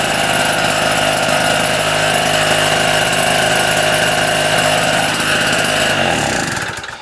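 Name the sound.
petrol generator engine running after starting with choke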